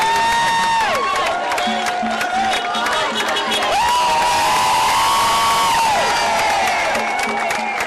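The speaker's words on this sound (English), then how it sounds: "the people are applauding them" A street crowd cheers, whoops and applauds as Extinction Rebellion protesters pass by. The noise is loud and continuous, with tonal calls rising above the general roar.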